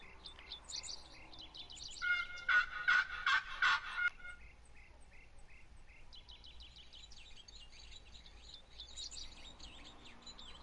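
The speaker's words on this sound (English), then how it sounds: "Think I hear what it sounds like a turkey." A wild turkey gobbles in a hunting video game, a loud rattling burst of several quick gobbles in the middle, with chirping birdsong before and after against a quiet outdoor ambience.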